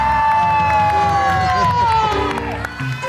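Studio audience on an Indonesian TV show applauding and cheering, a loud dense crowd roar holding for about three seconds over tonal background music.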